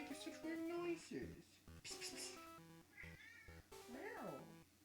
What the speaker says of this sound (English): kitty, why are you making such weird noises?